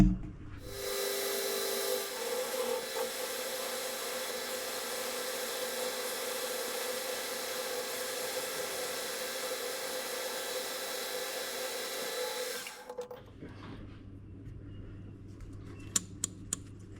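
A continuous whirring lathe runs steadily for about twelve seconds, parting off a metal rod for a Kawasaki engine intake push rod, then stops, leaving a low hum and a few sharp clicks.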